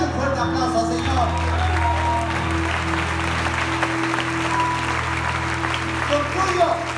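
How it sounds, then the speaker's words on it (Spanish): A church congregation applauds during a sermon, with a broad, steady wash of clapping from a large crowd and some voices and shouts mixed in over a low sustained hum. "Dale un fuerte aplauso al Señor."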